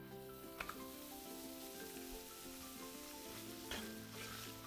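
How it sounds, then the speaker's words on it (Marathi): Wheat flour roasting in ghee on a low flame for sheera, a soft continuous sizzle with a couple of brief stirring scrapes, close and unbroken. "लो फ्लेमवर असं छान खरपूस आपल्याला हे गुलाबी होईपर्यंत भाजून घ्यायचे."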